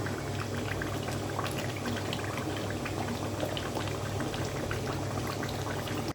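Beef curry cooked with little chilli simmers in a pot, giving a steady, dense bubbling that runs unbroken from start to finish, close by and with no voices.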